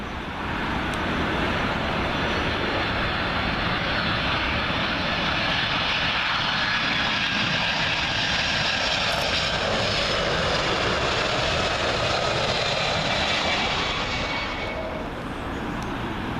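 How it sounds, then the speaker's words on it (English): A United Boeing 767 arriving from Washington passes low on approach to Heathrow's runway 27L, its engines roaring loudly and steadily throughout with a broad rushing hum and a whining tone that shifts in pitch as it goes by, fading slightly at the end. "Here's the United 767 in from Washington"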